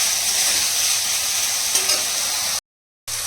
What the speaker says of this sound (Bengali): গাজর, আলু, বিনস আর মটরশুঁটি 4 রকম দিয়ে ভাজা করছি